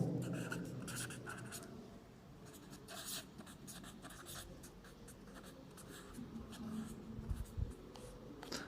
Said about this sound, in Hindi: मैं बेटा क्वेश्चन लिख रहा हूँ यहाँ पे